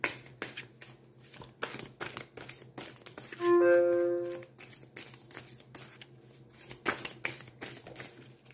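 Long oracle cards shuffled by hand at close range, a steady soft rustle and flutter of card stock running throughout, with a brief tonal burst near the middle.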